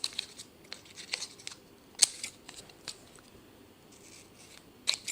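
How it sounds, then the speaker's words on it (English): Scissors snip and trim brick paper for a model railway warehouse in a quiet room, giving a run of faint, crisp cuts with soft paper rustle between them. "Trimming around it, like so. Cutting a little nick into the corner."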